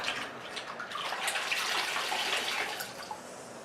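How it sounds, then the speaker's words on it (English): Running water rinsing a scrub product off a surface in a workshop, a continuous splashing, gurgling wash that stays close and even throughout, with no voices. "so I'm going to rinse this out"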